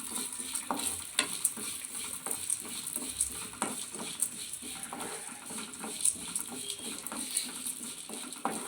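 Pepper, cumin, cinnamon, cloves and cardamom dry-roast in a pan for bisi bele bath spice mix, with close, repeated scraping stirs and light rustling patter of whole spices against the metal.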